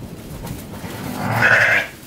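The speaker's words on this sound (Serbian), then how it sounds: "da vidim njegove ovce, ovdje on drži ovce" A sheep in a pen on a cold, windy farm near Kozarac gives a single clear bleat partway through, over a low rumble of wind.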